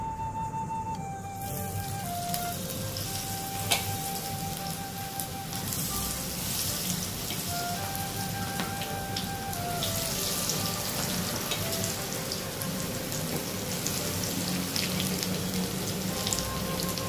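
Spinach bhaje fritters frying in very hot oil over lowered heat, a dense continuous bubbling sizzle that holds steady throughout, close and fairly loud.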